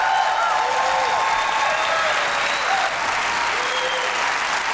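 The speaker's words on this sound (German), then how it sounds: "Dann Applaus nochmal, meine Damen." A television studio audience applauds steadily at a women's pot-striking game show, even, sustained clapping at moderate volume, with faint tonal sounds running beneath it.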